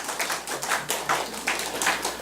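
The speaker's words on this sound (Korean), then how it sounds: "박수 한번 치셔도 됩니다." A church congregation claps in a slow, steady rhythm, about a handful of distinct claps spaced roughly evenly, fairly near and moderately loud with no voices over them.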